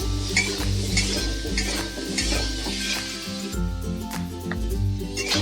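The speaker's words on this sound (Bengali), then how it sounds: "নুনটা আর হলুদ দিয়ে আমি ভালো করে একটু আরও নাড়িয়ে নেব" Fried hog plums being stirred with salt and turmeric in a pan over a low gas flame, steady scraping and clinking of a spoon against the pan over a faint sizzle, close and fairly loud, with a low hum beneath.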